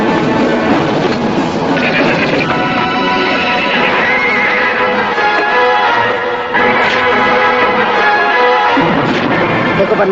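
Horse neighing loudly amid clattering hooves, with a continuous dense rumble in the background, in an old Indian TV serial scene.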